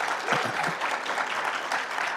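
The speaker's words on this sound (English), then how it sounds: "Let's get a round of applause for the people who would try polyphasic sleep." Audience at a live comedy show during PAX East 2018 applauding steadily, a dense wash of clapping that holds at an even level for about two seconds with no talk over it.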